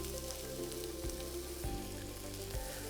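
Shrimp sprinkled with Old Bay fry on a hot Himalayan salt block, a steady sizzle, close and continuous, with a few soft clicks and pops breaking through the hiss.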